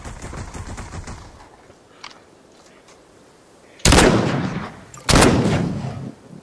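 Two loud, close gunshots from the VR battle royale Population: One ring out a second apart, each a sharp broadband crack with a decaying tail, following quieter clatter and faint voices.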